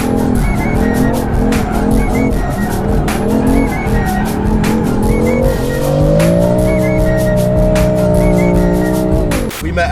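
A 700-horsepower BMW M3 pulls away hard, its engine roaring with rapid revs and tire squeal as the car fishtails up the road, then settling into a steady high drone before cutting off.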